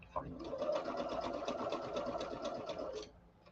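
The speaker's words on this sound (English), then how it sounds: "You're sewing all the way around." A sewing machine stitches fabric in a close, steady, rapid mechanical whir lasting about three seconds, with someone talking softly over it.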